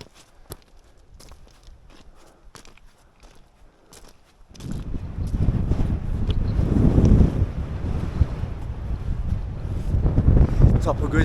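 Strong wind buffets the microphone on the summit of Grisedale Pike in the Lake District, starting faint with scattered footsteps and then turning into a loud, steady roaring rumble.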